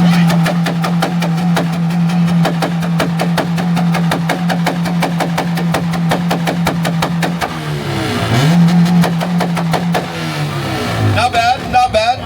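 Import car engine held at a steady high-rev limiter stutter in a 2-step rev battle, loud and continuous with rapid popping pulses, then a brief drop and recovery in pitch before more revving near the end.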